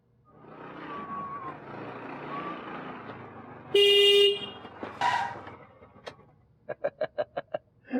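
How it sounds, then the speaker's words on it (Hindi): A loud car horn, a new one imported from Japan, blares once, then a second honk follows, before a quick series of short beeping toots, all over a low engine rumble. "कैसा लगा मेरा ये नया हॉर्न? जापान से मंगवाया है।"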